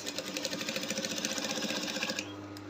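A sewing machine stitches the hem of a kimono gown with a fast, steady mechanical whir and rhythmic needle clatter up close, then winds down to a low hum near the end.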